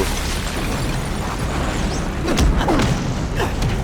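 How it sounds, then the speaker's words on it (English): An explosion in the Watchmen: The End Is Nigh video game, heard as a rumbling burst with crackling debris and sharp pops over steady low background noise, loud and close. "Okay, so there's an explosion."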